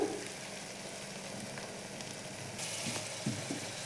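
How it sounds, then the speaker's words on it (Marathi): Spice mixture with turmeric and salt sautéing in hot oil for a whole masoor dish, a steady close hiss of frying with a few soft stirring knocks and no voices. "मिठाला पण तेलामध्ये छान असं परतून सर्व मिश्रण घेऊयात एक जीव करून"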